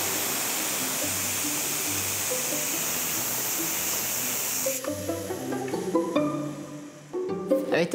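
A pressure cooker venting steam through its red safety valve while a beef stew cooks, a loud continuous rushing hiss that cuts off abruptly, followed by clinks and clatter of the pot.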